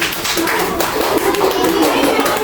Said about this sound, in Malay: tepuk tangan untuk kumpulan Siti